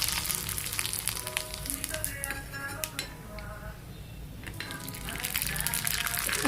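Masala papad made from rava frying in hot oil, a steady bright sizzle that dips briefly mid-way and swells again, with a faint clink of utensils and a voice talking over it.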